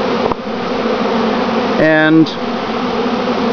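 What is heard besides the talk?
honeybee colony buzzing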